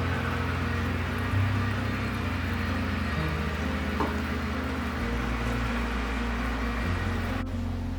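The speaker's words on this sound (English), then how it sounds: "we have reached rolling boil status, so we have 1 minute to go" Red clover flower jelly at a rolling boil in a pot, giving a steady low bubbling roar with faint sizzle, continuous and fairly close for the whole stretch, with no talking.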